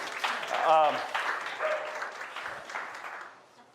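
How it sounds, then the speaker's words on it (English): Audience applause for a volunteer named Alex at a church study session, a broad wash of clapping that swells early and then fades away, with a voice briefly heard over it. "A big round of applause for Alex, by the way."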